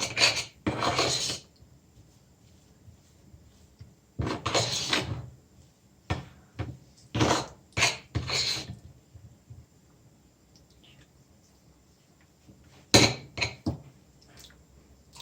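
Scraping strokes of a spoon working through thickening milk in a pan while khoya is cooked down at home, coming in short separate bursts with quiet pauses between them.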